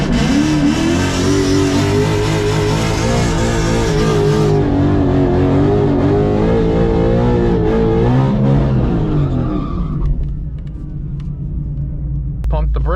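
A twin-turbo Audi R8 engine revs hard and accelerates, a loud close roar with rising pitch sweeps that fades and drops away toward the end.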